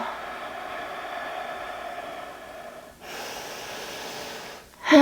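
A slow, deep inhale through the nose during a full-body yoga stretch after a workout, a soft breathy rush that swells after a short pause, with no talking.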